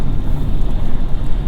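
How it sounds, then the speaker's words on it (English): Road noise inside a 2022 BMW i4 M50 cruising on the highway: a steady low rumble and roar from the tires, loud and unbroken, with no voices. "There's essentially no wind noise in this car, but you do get a good amount of road noise"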